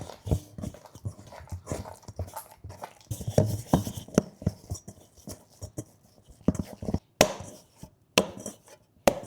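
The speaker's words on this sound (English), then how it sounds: "Go in with your hand and mix this bad boy" Room-temperature butter is worked into sourdough cinnamon roll dough by hand, making close, uneven squelching slaps and sticky pats in irregular bursts with short pauses.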